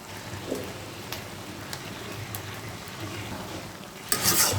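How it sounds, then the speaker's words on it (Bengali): Pumpkin leaf greens with prawns being stirred in a pan after cumin powder goes in, a soft, steady sizzle with occasional spoon scrapes and a louder rustling stir near the end, close by. "নেড়ে ছেড়ে মিশিয়ে দিচ্ছি"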